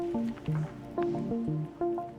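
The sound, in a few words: water trickling from above in a cave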